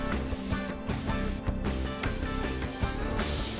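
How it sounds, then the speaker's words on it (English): A spray gun, such as a small DeVilbiss or SATA, sprays water-based automotive base coat at about 1.5 to 2 bar, giving a steady airy hiss under prominent background music for a few seconds. "recommend a small de Vilbis or SATA spray gun."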